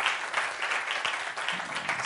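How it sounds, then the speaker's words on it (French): A live audience at a magic show applauds a volunteer from the crowd, a soft, steady patter of clapping heard from a distance. "Est-ce qu'on peut applaudir très fort Roxana?"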